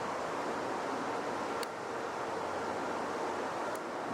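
Steady wind gusting outdoors on a blustery day in a garden, a constant broadband rush buffeting the microphone with no speech.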